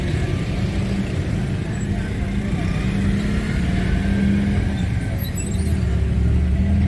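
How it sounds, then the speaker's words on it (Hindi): Busy street traffic with a continuous low rumble of passing cars, buses and motorbikes, steady and fairly loud, with engine drone shifting slightly over time. "आप ट्रैफिक का हाल देख रहे हैं ना"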